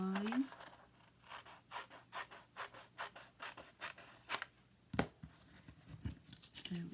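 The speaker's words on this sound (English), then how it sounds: "Cut up that score line." Paper is scored and cut by hand along a fold line for a scrapbook album, giving a run of soft, rhythmic rasping strokes, close and quiet, with a brief thump near the end.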